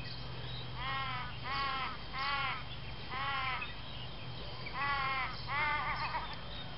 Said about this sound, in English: That's an Australian raven, that sound.